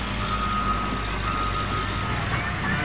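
A truck stuck in sand near a bridge construction site reverses with a steady repeating beep, loud and close over a constant rumbling engine and broad noise.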